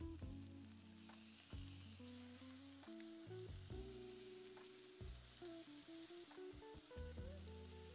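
Chicken fillets sizzle and crackle in a very hot pan, a steady frying hiss broken by spatters and clinks of the pan and utensil. It is close and continuous with no talking.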